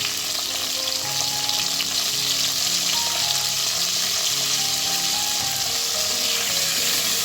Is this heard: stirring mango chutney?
yes